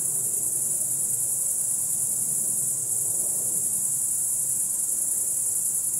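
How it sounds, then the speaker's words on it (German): Crickets chirp at night near a cemetery in a dense, continuous high trill that holds steady and fairly loud throughout, with faint low background rumble and no voices. "Diese Grillen."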